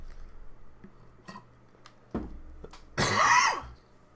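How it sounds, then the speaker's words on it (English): A single harsh cough bursts out near the end, preceded by a few faint clicks and a soft throat sound in an otherwise quiet room. "Still fighting this cough"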